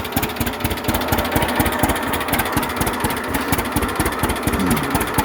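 The engine of a 1937 unstyled John Deere A tractor idles with a slow, loping, evenly repeating putt-putt pulse, loud and close, with a rattly mechanical clatter over it and no voices.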